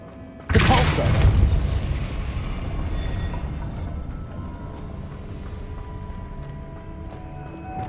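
A Depulso spell cast in Hogwarts Legacy on PS5, a sudden loud booming blast that hits at once and then trails off into a long rumbling decay, alone with no voice over it.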